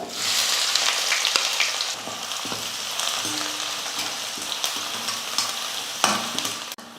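Steady loud sizzling of finely chopped onion frying in a hot pan, with occasional scrapes and stirring clicks throughout.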